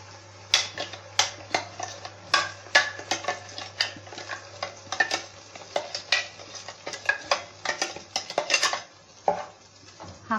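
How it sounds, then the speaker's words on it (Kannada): Spinach puree for palak paneer going into a pan over fried onions on low heat and being stirred, with repeated close scraping and clinking of a spoon against the pan and a faint sizzle throughout. "ಈಗ ನಾವು ಮಿಕ್ಸರ್ ಅಲ್ಲಿರುವಂಥ ಪಾಲಕ್ ಮಿಶ್ರಣನ ಹಾಕೊಳ್ಳೋಣ"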